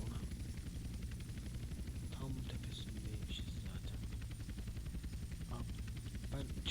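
A helicopter in the video game GTA gives off a steady rotor drone that runs through the whole stretch, with a voice speaking over it.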